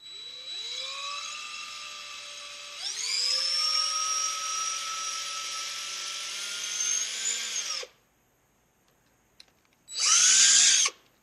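A power drill bores into a Razer mouse scroll wheel, its steady whine climbing in pitch after a few seconds and running until about eight seconds, then stopping before one more short high burst.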